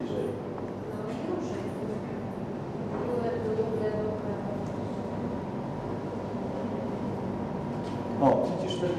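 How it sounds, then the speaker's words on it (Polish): A train moving past a city panorama in Szczecin, Poland, a low continuous rumble with rhythmic rolling clatter from a distance, under men's conversation. "O, widzisz ten pociąg, co jedzie?"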